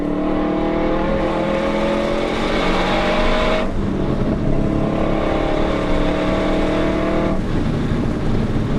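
A car at a Carfest track day heard from inside during a ride-along, engine note rising steadily through the revs, dropping at two gear changes, then climbing again, loud and close with no talk.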